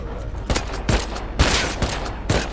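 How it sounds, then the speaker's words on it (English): Gunfire in the Rust video game from a weapon resembling a World War II gun, with several sharp, loud shots spaced irregularly about half a second apart over constant background noise, and no talking. "Sounds like it's a World War II gun"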